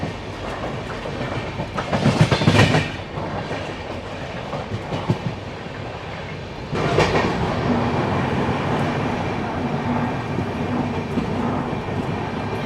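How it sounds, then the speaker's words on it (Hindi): Double Decker Express train running at speed and overtaking the Khajuraho Udaipur Express, a steady rumbling roar with clattering wheels, a loud burst of passing noise early, then a continuous heavier rush. "तो ये हम ओवरटेक कर रहे हैं खजुराहो उदयपुर एक्सप्रेस को"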